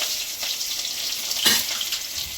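Curry leaves dropped into hot oil in a home kitchen pan with bay leaf and ginger-garlic paste give a steady, close, crackling sizzle, flaring into a louder spitting burst midway before settling back.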